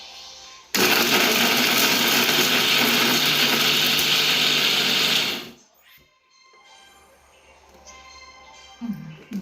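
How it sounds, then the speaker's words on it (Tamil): A mixer grinder whirs loudly and steadily while grinding soaked vada batter, running for about five seconds before cutting off abruptly, leaving quiet kitchen noises and a faint voice. "முதல்ல வடையை அரைச்சி போகும்."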